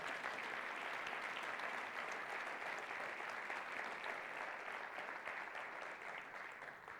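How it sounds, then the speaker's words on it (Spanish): Church congregation applauding, a dense steady burst of many hands clapping that fades slightly toward the end, fairly faint. "Dale un aplauso a Él."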